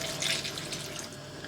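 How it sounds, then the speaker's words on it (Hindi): Water streams steadily into a pot of rice being cooked for chana masala rice, a continuous close, even splashing pour with no talk over it. "अब मैं इसमें ऐड करूँगी जो कि पानी है।"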